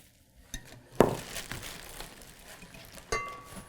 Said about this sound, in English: And here is the whisk.